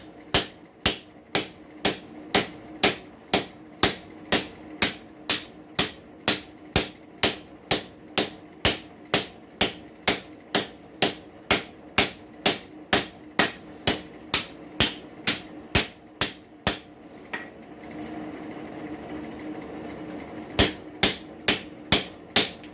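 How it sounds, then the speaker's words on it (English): A farrier's rasp is hammered over the step of an anvil, a long, even series of sharp, loud metallic strikes about twice a second, briefly pausing before a final quick burst, close and alone. "Now I'm going to work over the step of the anvil, try to create a curvature."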